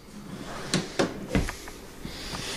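A few short sliding clunks from a full-extension ball-bearing drawer guide running and knocking shut in a log cabin park model RV, fairly quiet against a soft background hiss.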